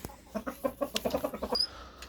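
Several hens cluck in a quick, uneven series of short calls, fairly close, with a brief higher squawk near the end.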